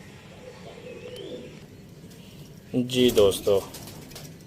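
A Teddy patti pigeon coos in soft, low bursts, with a few louder, close coos near the end. Someone speaks briefly over the cooing.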